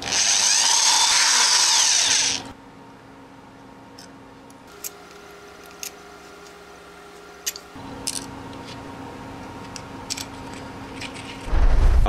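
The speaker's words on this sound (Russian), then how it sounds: "По месту сверлю отверстие для закрепления платы." A loud power drill whirs steadily for about two seconds drilling a hole in plastic, then stops, leaving quiet room tone with faint clicks and ticks, and a brief burst of drilling at the end.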